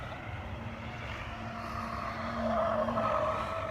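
A car laps clockwise on a dry skid pad, its engine holding a steady near drone with tire hiss that swells louder toward the end.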